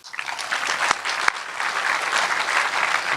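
Audience at an architecture awards dinner applauding as the IIT College of Architecture dean comes on stage, a full, sustained burst of many hands clapping that swells quickly and holds steady, with no talk over it.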